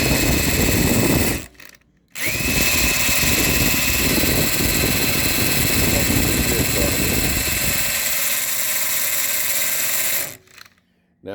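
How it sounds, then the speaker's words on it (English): A corded electric drill spins an oil pump primer tool on a 6.2/6.5 diesel engine that is out of the vehicle. Its loud, steady whine stops briefly near the start, resumes for about eight seconds and then cuts off. "to use an electric drill just to kind of pump it up a little bit, because a battery one might wear down."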